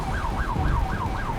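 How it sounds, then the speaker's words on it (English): An emergency vehicle siren wails in a rapid, regular rising-and-falling cycle during the Fort McMurray wildfire, loud and steady over a low rumbling background. "You hear the emergency sirens going"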